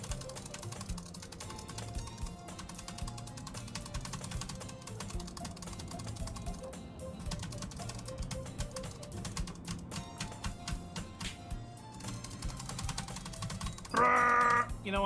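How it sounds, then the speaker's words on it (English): A computer keyboard is struck hard and fast, a dense run of clacking keys continuing throughout, close but fairly quiet over a low background hum. "I wonder if you can hear me slamming the fucking keyboard."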